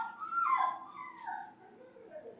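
A dog gives a high, wavering whimper that rises and falls in pitch, then trails off into softer whines, close by and fairly quiet against a still background.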